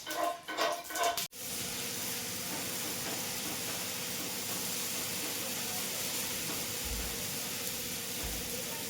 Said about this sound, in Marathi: मी इथं तुपात डोसा बनवते.